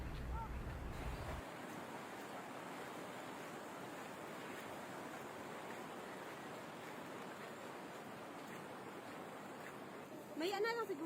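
Steady broadband rush of a strong river current flowing during a mountain trek crossing in Kabulnukan, Brooke's Point, Palawan, continuous and fairly close, with a brief louder splash near the end.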